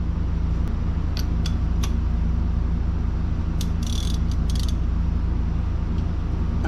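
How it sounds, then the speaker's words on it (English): A deep socket wrench ratchets on a 24 mm bolt on a Fiat 124 Spider 2000 engine, with a few sharp clicking bursts over a steady low hum. "You need a deep socket. Let's see if it'll turn."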